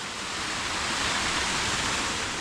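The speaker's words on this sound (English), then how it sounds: "You can walk behind this waterfall." A 60-foot waterfall on an off-road trail near Mulberry Mountain, a broad, steady roar of falling water that stays loud and close throughout with no voices over it.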